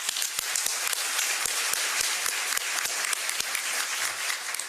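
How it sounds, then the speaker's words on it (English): Audience applause for the mayor at the Birmingham State of the City Address, a dense, steady wash of many hands clapping throughout with no talking over it. "let's give another round of applause to our mayor"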